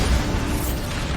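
A Bombarda explosion spell in Hogwarts Legacy erupts as a loud, dense burst of rumbling noise that fills the short moment without any break.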